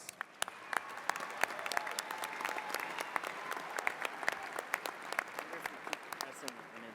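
Clapping rises from a convocation audience for PhD degree recipients, a continuous round of applause with sharp individual claps standing out, heard from some distance and fairly soft overall.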